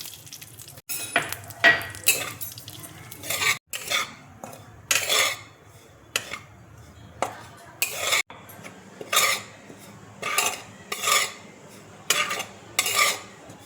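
Coconut powder being stirred into melted ghee in a wok, heard as regular rhythmic scraping and metal clinks of a spoon against the pan, close and distinct with little sizzle.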